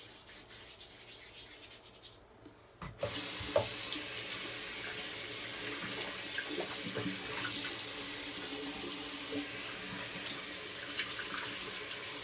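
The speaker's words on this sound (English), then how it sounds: "Just rinsing off the puck now." Water running from a tap while a shaving soap puck is rinsed off, starting after a quiet moment and then a steady close splashing flow with some rubbing, no speech.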